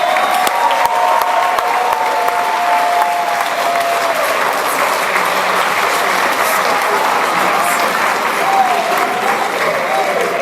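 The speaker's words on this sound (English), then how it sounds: "a huge round of applause, please, for the wonderful Anna Louise Pasolki" A large audience at a 40th anniversary celebration dinner applauds for Anna Louise Pasolki with loud, continuous applause filling the hall. Tonal sounds and voices sit under the clapping.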